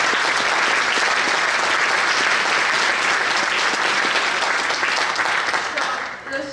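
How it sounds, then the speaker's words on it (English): Sustained applause from a school spring band concert audience for students who earned a rating, dense steady clapping that fades near the end. "so claps for them"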